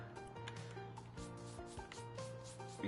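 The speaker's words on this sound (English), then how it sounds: "make sure you're sanding over the spots" Surface sanding in the video game House Flipper 2 gives a steady rubbing, scraping sound over nearly three seconds, with tonal game music running underneath.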